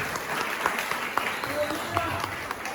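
Church congregation applauding during a Portuguese-language sermon, a steady wash of clapping with a few sharper claps standing out, with a voice speaking over it.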